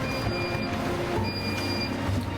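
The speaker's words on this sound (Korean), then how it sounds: "ITX 열차에 올랐습니다." Interior of an ITX train running from Busan toward Gangneung, a steady low rumble of wheels on rails with faint tonal whines and hum, continuous and moderately quiet, with no voices.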